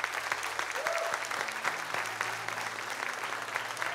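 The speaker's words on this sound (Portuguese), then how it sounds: "Você pode aplaudir ao Senhor pela vida dele?" A church congregation claps together during a worship seminar, a busy spread of many hands at middling distance, with faint organ-like held tones and a low hum beneath the applause.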